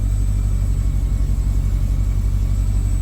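A car engine runs steadily at high idle, a continuous low rumble with a faint constant whine above it, close and alone without talk.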